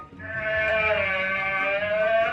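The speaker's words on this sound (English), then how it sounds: "An alpaca." A single drawn-out, tonal alpaca call with a slight bleating quality, sustained for about two seconds, close and fairly loud with no talking.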